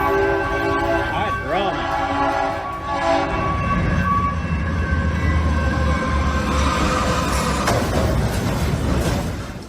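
A train blares its horn and slams head-on into a 23-ton shipping container stuck across the tracks, with a loud, continuous rumble of rail noise and a heavy crash filling the scene throughout.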